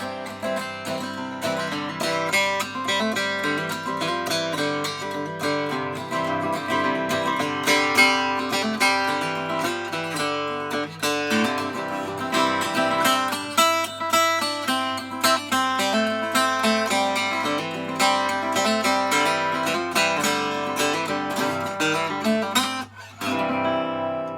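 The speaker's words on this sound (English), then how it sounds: "So this is what any bluegrass musician will play when they pick up an archtop guitar." An archtop guitar strums and picks busily and continuously in a lively, bright bluegrass rhythm, with dense chords ringing throughout.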